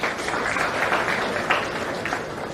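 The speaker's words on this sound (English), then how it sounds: "So I would like everybody to applaud the entire team for organizing this." An audience applauds the organizing team at an engineering college international research conference, with dense, steady clapping that fills the hall evenly from start to finish without any talk on top.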